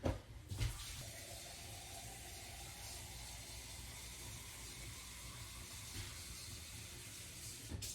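Water runs steadily from a tap into a glass for several seconds, a soft continuous hiss with a brief clunk near the start and end.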